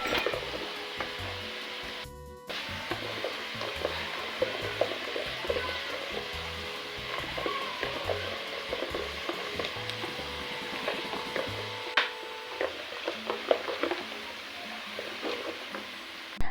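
Whole spices, cardamom, cinnamon, cloves and rosemary, sizzle in a hot pan for pilau. A soft, steady frying hiss continues throughout, broken by light scraping and stirring clatter.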